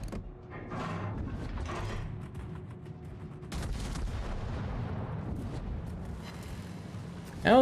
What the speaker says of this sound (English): Oh, look, the Essex is bombing you.